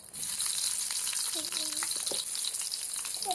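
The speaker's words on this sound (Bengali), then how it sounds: "তেল গরম হয়ে গিয়েছে, এখন আমি বেগুনগুলো দিয়ে দিই।" Eggplant pieces dropped into hot oil, sizzling in a steady bright hiss that runs throughout, with a few faint clinks of stirring and no speech.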